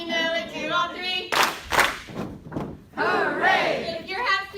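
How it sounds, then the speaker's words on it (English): A keynote audience claps and stomps in rhythm to a children's action song, with sharp clustered hand claps and heavy thuds from a crowd mixed with singing voices. "Clap, clap, stomp, stomp."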